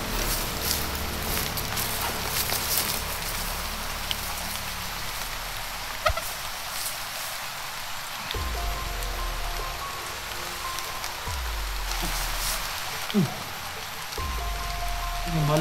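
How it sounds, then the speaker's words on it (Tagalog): Steady rain patters on a surface throughout, with a few dull knocks and a brief rumble in the background. "Sana tol ay hindi lumakas ng ulan na to."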